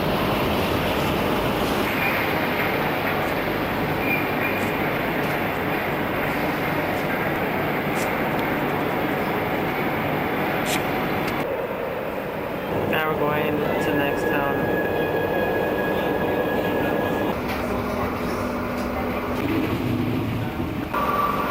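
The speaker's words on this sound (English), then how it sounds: "Here comes our train." A train pulls into a busy station in Madrid with a sustained loud rumble and hiss, followed by squealing brake tones and a shift in the noise as it slows, with people talking over it.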